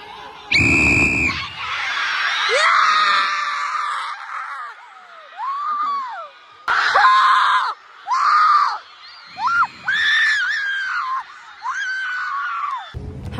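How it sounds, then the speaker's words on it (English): A teenager screams and yells in celebration after her side wins a homecoming week competition, a loud opening shriek followed by a series of excited whoops and cries, with other voices shouting together in a lively crowd. "I'm pretty sure the last clip was a clip of me screaming because we won"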